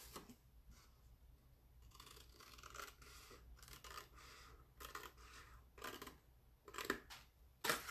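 Scissors snipping designer series paper for a punch-board gift bag envelope, faint close crisp cuts and rustles in irregular bursts, quiet, with no talk.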